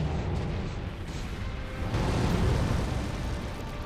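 Mortar fire in a video game, a continuous rumbling roar of explosions and booming bursts, loud and dense throughout with a swell toward the end, no voices.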